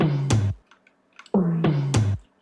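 A clean tom drum fill with no bit-crushing effect rolls down in pitch in a quick run of hits, played twice with a short gap between.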